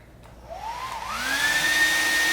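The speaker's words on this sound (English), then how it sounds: "As the air travels through the tube, it should also pick up the hairdryer as it goes." A hair dryer blows air through a long clear tube, rising from a soft start into a loud, steady whoosh. A whistling tone sweeps upward as the airflow builds and then holds.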